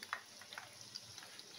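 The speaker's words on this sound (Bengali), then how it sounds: "এরকম উল্টে পাল্টে ক্রিস্পি করে ভেজে নিতে হবে।" Pieces of dragon chicken fry crisply in hot oil while being turned. The quiet, crackling sizzle comes with soft scraping taps from stirring.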